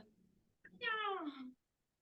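During a children's yoga session, a person imitates a cat with one drawn-out, falling meow sung on the exhale, clear and close after a brief breath.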